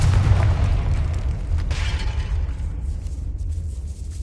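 A Confringo blasting spell explodes in Hogwarts Legacy, bursting loudly into a deep, sustained rumble with a second surge partway through that slowly fades. No voices are heard.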